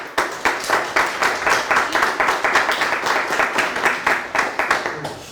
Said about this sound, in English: Please clap hands for them.